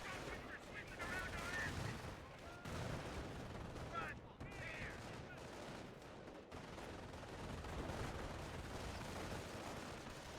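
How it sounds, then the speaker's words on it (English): An anti-tank gun fires at a Puma armoured car in a World War II strategy game, within a dense, continuous mix of battle noise and gunfire, with a commentator talking over it. "AT gun with a good hit on that Puma"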